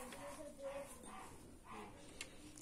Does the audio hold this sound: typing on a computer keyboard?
no